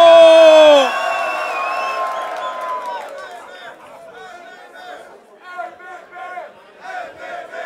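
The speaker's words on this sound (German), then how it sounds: "Bitte einen kräftigen Applaus" Crowd at a Berlin freestyle rap battle contest: a brief sustained tone gives way to scattered cheers, whoops and lively chatter from the audience, rising and falling in bursts.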